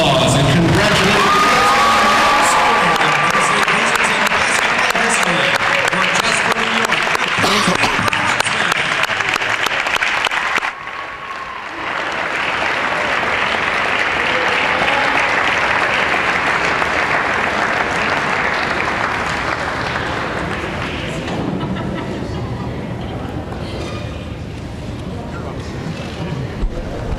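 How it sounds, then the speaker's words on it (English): A big crowd at a college basketball game at PSU Hazleton breaks into loud, sustained applause with cheering and whoops, a packed roar that dips briefly, then swells again and slowly fades, with voices mixed in. "Please join us with a big round of applause and congratulate"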